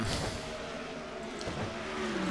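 Race cars in a racing video game at Pocono Raceway, a pack of engines droning and revving together in a steady, dense roar with no voices.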